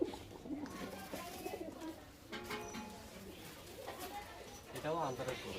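A young Giribaz pigeon in a loft calls with low, repeated coos, close by and fairly quiet, while people talk over it.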